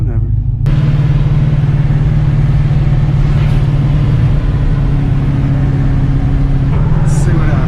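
A car engine held at wide open throttle during a pull, suffering from a spark or tune problem, drones loudly and steadily at a near-constant pitch, with brief roughness at the start and near the end.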